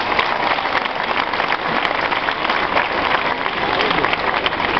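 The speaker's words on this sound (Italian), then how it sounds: "se volete fargli un applauso" Crowd applause in an outdoor piazza during a football club's team presentation, a dense steady roar of many hands clapping that holds at full level throughout with no pauses.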